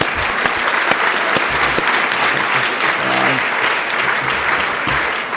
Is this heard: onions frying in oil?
no